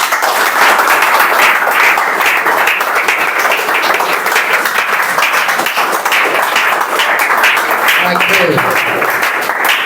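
Loud, dense clapping fills the hall after a children's motivational speech, continuous and near, with a voice briefly speaking near the end.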